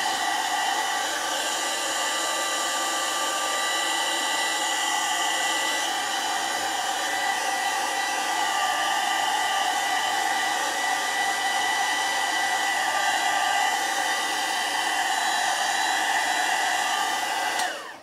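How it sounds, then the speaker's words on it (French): A heat gun dries paste on a handmade mixed media Valentine's card. Its loud, steady blowing whir runs unbroken for about eighteen seconds and stops abruptly at the end, with no voices. "Je vais faire un peu de bruit avec mon heat gun"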